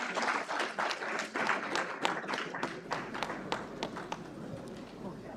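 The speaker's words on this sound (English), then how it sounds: "A round of applause," Applause from an audience at a commercial bid conference, a steady patter of clapping with sharp hand claps standing out, fairly close and tapering slightly toward the end, with a voice faintly underneath.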